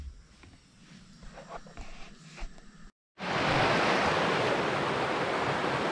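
A small river below a mountain hut rushes as a loud, continuous broadband roar that starts abruptly after a brief gap, preceded by quieter outdoor sounds and faint movement.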